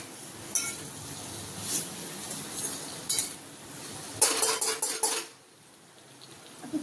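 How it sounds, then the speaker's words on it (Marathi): A metal spoon stirs asafoetida in a hot pan for Marathi-style eggplant curry, giving scattered clinks and scrapes against the pan over a faint background, with a busier burst of rattling stirs near the end. "आता टाकूया थोडासा हिंग. छान असं परतून घेऊया."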